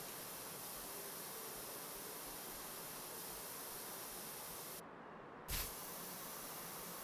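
Spray painting a car in the video game Car Dealer Simulator, a steady, loud broadband hiss of the spray gun running continuously, briefly dipping and cutting out near the end before resuming.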